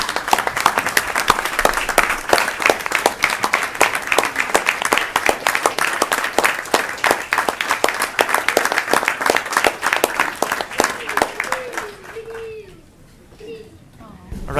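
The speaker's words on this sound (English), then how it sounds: "please stand up so we can all give you a big round of applause" Sustained applause from an audience at a Medicaid advocacy gathering, dense steady clapping for around twelve seconds before tapering off into quieter room noise and murmurs.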